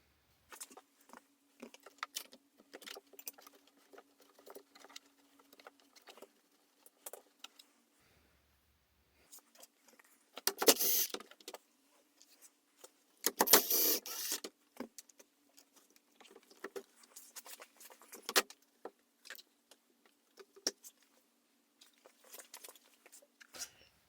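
Fixings being undone on the door mirror of a 2024 Hyundai i20, heard as scattered close clicks, rattles and small plastic taps, with two louder scraping bursts midway over quiet pauses.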